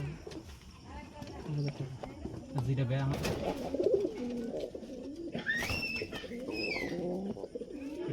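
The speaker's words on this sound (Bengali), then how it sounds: "কবুতরগুলো দেখতেও মাশাআল্লাহ অনেক সুন্দর" Red Jalali pigeons coo in a loft, soft repeated throaty calls close by, mixed with wing flutters and shuffling, while someone talks over them.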